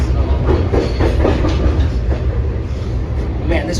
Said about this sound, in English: this train is bumping along the track and everything. Not bumping, gliding along the tracks.